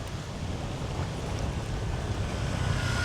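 Wind gusts buffet the microphone over waves lapping around a small fishing boat in rain, a steady broadband wash that holds at moderate level without any voices.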